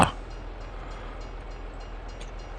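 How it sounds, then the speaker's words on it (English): A long freight train passing in Farming Simulator 22, with a sharp clank at the start and then a continuous loud low rumble of rolling wagons, without talk. "Ooh, no, we're not going to beat the train!"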